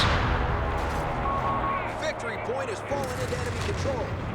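Battle sounds in the Company of Heroes 3 strategy game: a dense rumble of gunfire and explosions runs throughout beneath a commentator's excited speech, with a few whistling effects.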